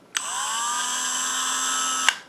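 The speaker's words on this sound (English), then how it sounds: "This is what the Dremel sounds like." A Dremel 8220 rotary tool switches on with a click, whines up to speed, holds a steady high-pitched motor drone with a few tonal harmonics for about two seconds, then clicks off.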